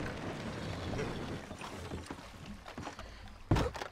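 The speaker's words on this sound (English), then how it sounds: "Did not mean to get into the boat." Rowboat in Red Dead Redemption 2, quiet water sloshing and wooden creaks and knocks, ending in a sharper splash or thump, with no talk.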